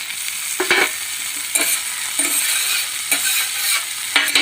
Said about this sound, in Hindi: अब इसमें घी डालेंगे।